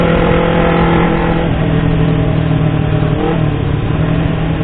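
A motorcycle engine drones loud and close while being ridden through quiet Jakarta streets, a steady hum with a brief dip in revs partway through.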